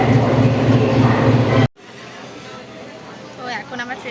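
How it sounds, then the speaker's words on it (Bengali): Rumbling train noise and a loud hum fill the start, then cut abruptly to a quieter carriage interior with low rolling background and people talking nearby, on a train journey to Tarapith. "তো এখন আমরা ট্রেনে বসে গেছি"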